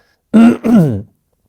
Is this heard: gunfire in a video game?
no